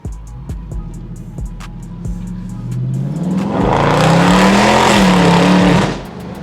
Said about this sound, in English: we really gonna see what the Scatty sounds like with the pipes open